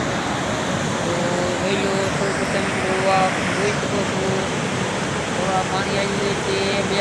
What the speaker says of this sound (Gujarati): હજી પણ અહીંયા પાણી આવ્યું જાય છે માલણ નદીનું